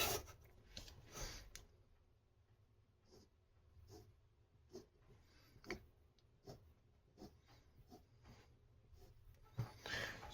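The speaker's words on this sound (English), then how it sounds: "I'm going to draw the side in here." Faint, close scratching strokes of a pen drawing lines on paper, coming in short separate scrapes with quiet gaps between them, with no one talking.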